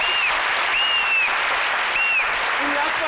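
A studio audience keeps up a steady wash of applause throughout, with faint whistle-like tones rising and falling over the clapping.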